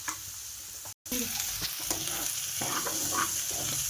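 Onions fry in hot oil for a fish and drumstick curry, a continuous close sizzle with stirring scrapes, briefly cut to silence once early on before resuming.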